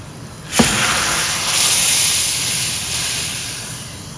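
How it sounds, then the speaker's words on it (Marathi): A sharp hiss erupts as hot oil tempering is poured into a lentil curry, then settles into a loud, steady sizzle that slowly fades over a few seconds, close up. "तर आता ही सर्व फोडणी आपण आमटीमध्ये घालणार आहोत"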